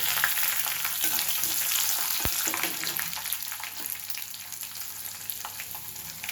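Cumin, garlic, onions and green chillies fry in hot oil with a steady, fairly soft sizzle, plus one quick knock early on and occasional light stirring.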